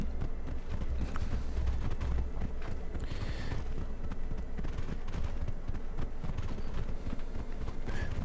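In the video game Mortal Online, rhythmic horse hoofbeats clop along at a steady running pace over a low background hum, with no talking.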